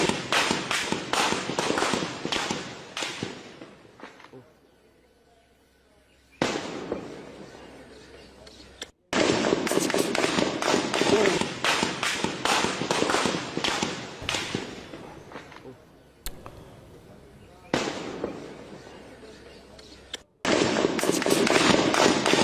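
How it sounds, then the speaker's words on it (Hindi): Pakistani Rangers fire on protesters in Pakistan-administered Kashmir: long, dense volleys of rapid crackling shots, broken by brief lulls, with faint voices mixed in. "पाकिस्तानी रेंजर्स कैसे फायरिंग कर रहे हैं"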